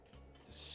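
Soft grating rasp of queso fresco being scraped, a brief close rubbing stroke that grows brighter and slightly louder toward the end, with no voices.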